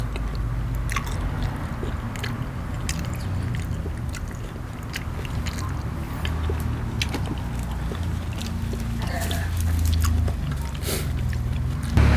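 Close, wet chewing and biting of raw beef salad, steady munching and soft crunches repeating throughout with a low background rumble and no talk.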